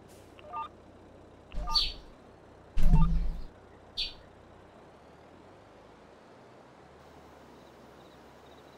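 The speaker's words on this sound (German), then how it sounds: "im Hintergrund hört ein kleines Vogelgezwitscher" Small birds chirp in short, separate bursts in the background, set against a steady low hum and quiet outdoor ambience early in the morning, with no talking.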